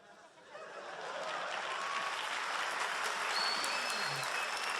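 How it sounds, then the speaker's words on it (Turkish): Audience applause at a League of Legends cosplay contest winter final in 2014, a broad steady clapping that swells in the first second and then holds loud and dense through to the end, with no talk over it. "Bu kadar mı alkışlıyorsunuz?"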